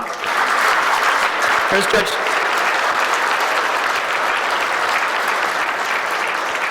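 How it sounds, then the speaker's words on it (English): Diners at an annual dinner break into loud, sustained applause for a judge, a dense roar of clapping with a voice speaking briefly over it. "We'll give him a round of applause now."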